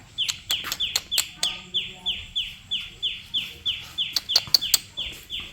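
Chickens clucking and calling in a fast, regular series of sharp repeated notes close by, with some faint background voices underneath.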